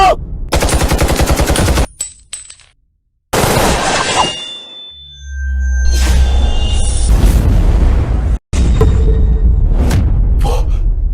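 Loud bursts of rapid gunfire rattle in several volleys separated by brief silences, with a booming rumble swelling in the middle.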